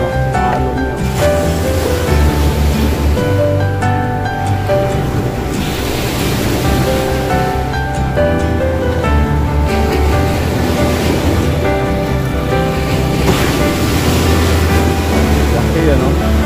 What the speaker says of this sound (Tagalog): Maalon ang dagat ngayon